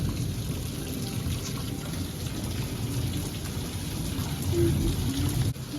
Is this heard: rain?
yes